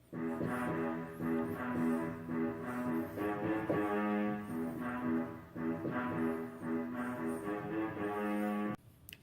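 A string melody plays a repeating refrain, with sustained bowed notes rising and falling in phrases, then stops abruptly near the end.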